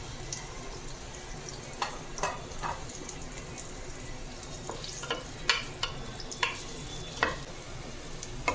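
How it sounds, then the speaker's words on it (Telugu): Medium-sized onion frying in hot oil, a steady dense sizzle throughout with intermittent clinks and scrapes of a utensil stirring in the pan, close and continuous. "మనకి ఆనియన్ అనేది ఈ విధంగా వేగాలంటే"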